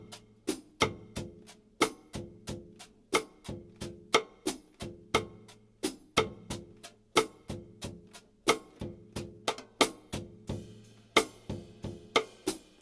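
Bossa nova pattern on a snare drum played softly with a brush, a steady rhythm of crisp, evenly spaced taps over a light low-pitched pulse, alone and fairly quiet.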